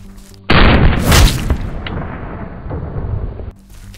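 A 5.7x28 American Eagle 40 grain round fired from an FN Five-seveN pistol into a gel block: one loud, close boom that rolls off over a few seconds before dropping back to quiet.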